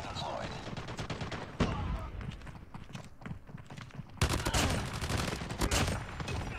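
Annihilator gunfire in Call of Duty Mobile comes as dense rapid bursts that carry through most of the clip. A sharp burst starts near the middle, the loudest stretch of fire arrives near the end, and game effects sit underneath.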